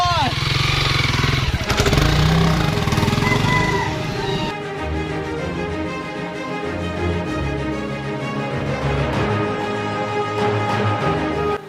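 A Honda CRF 300L motorcycle engine runs nearby, loud and rough at first, then settling into a steadier idle-like hum for the rest of the clip.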